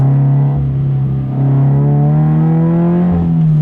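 A Subaru BRZ's engine revs steadily under load while driving, a strong continuous drone that climbs in pitch through the middle and eases slightly near the end, loud and close with no talk.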